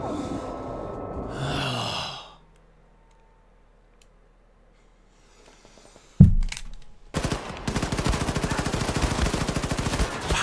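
Gunfire in the shooter game Wolfenstein 2: The New Colossus, with a loud burst at the start, a quiet stretch, then sustained rapid automatic fire; no talking.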